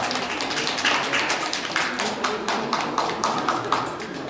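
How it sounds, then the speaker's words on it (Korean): A hall audience at an environmental-sensitivity festival in a Gumi arts center applauds steadily. The dense patter of many hands is moderately loud and continues without a break, with faint murmuring underneath. "박수 한번 부탁드리겠습니다"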